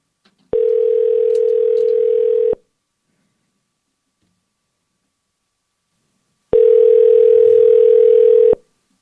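Two long, steady telephone ring tones with a silent gap between them, heard while a call is placed to a live radio guest. The bursts are loud and clear, and no one speaks.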